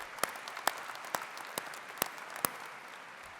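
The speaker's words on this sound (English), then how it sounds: "give them a round of applause" Applause from a graduation audience honoring Michigan athletes, a soft steady patter of many hands with a handful of sharper, louder claps standing out at irregular moments, heard from some distance.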